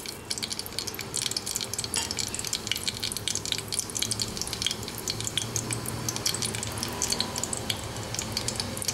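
Cardamom, cloves, shahi jeera and cumin seeds fry in hot ghee for Hyderabadi chicken haleem, giving a continuous close crackle and spatter with light stirring clinks throughout.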